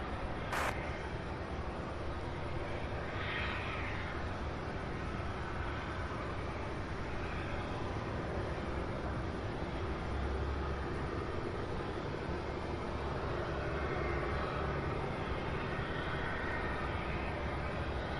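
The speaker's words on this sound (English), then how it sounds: "While the MD-11 is turning ready for takeoff" A steady, distant jet engine roar from an MD-11 airliner turning for takeoff at Louisville's SDF airport, a continuous broadband rumble with little change over the whole stretch.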